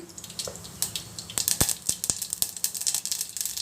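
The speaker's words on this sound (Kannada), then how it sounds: "ಎಣ್ಣೆ ಕಾದಿದೆ ಸಾಸಿವೆ ಹಾಕ್ತಾಯಿದ್ದೀನಿ" Mustard seeds dropped into hot oil for tempering, crackling and popping in a rapid irregular spatter close by, the sharp pops growing busier as the sizzle continues, no voices.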